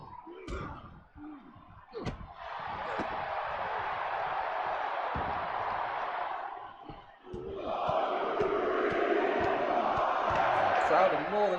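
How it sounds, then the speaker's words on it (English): Virtual wrestling arena crowd in WWE 2K24, a loud sustained roar of chanting and cheering that swells and rises again after a brief dip, with crowd noise filling the whole stretch. "The crowd are more than happy to count and chant along with each strike."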